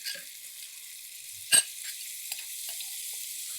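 Marinated mutton frying in oil in a pan for Punjabi mutton biryani: a steady, close hiss of sizzling with one sharp stir or scrape partway through, no talk.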